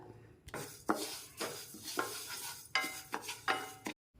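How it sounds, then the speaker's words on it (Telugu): Flax seeds dry-roast in a pan on the stove, with about eight rhythmic scraping and rattling stir strokes close by. A soft sizzle runs underneath, with no talking. "ఇప్పుడు ఇవి స్టవ్ మీద ప్యాన్ పెట్టి వేయించుకుందాం"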